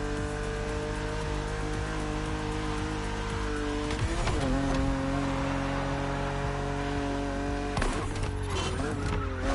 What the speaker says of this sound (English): BMW Z models are what we call roadsters. Two-seaters made for relaxing behind the wheel, appreciating the scenery and the thrill of speed.